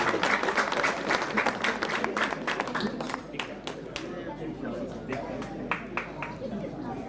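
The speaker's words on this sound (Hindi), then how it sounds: "तो जोरदार तालियां।" Sustained applause from an audience at a Ramleela felicitation, dense clapping filling the whole stretch at a steady loud level before easing slightly toward the end.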